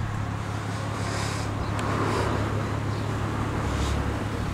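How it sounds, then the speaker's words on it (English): A Toyota Soarer GT-T twin-turbo engine runs quietly, giving a low, even hum that holds steady without revving, mixed with faint outdoor background noise. "very quiet engine."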